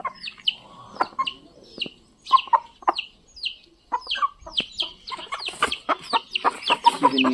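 Parrot-beak hens on a farm cluck close by in quick, repeated bursts, with short gaps between the calls and a busier, overlapping stretch toward the end.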